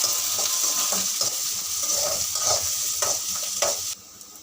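Onion sizzles in a pan after chana dal has gone in, a steady close frying hiss with repeated scraping stirs of a spoon, continuing for about four seconds before the sound cuts away sharply.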